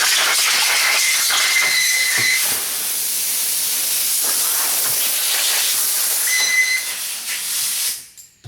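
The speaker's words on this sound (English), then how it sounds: "Let me grab that blower there." A compressed-air blower blasts dust off VW cylinder head parts with a loud, steady broadband hiss for several seconds, briefly surging midway, then tapering off as the blower stops.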